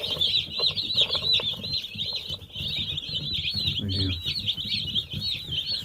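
Cornish Cross chickens cluck and chirp continuously at fairly close range, a busy flock chatter of short, repeated calls over a low background of shuffling.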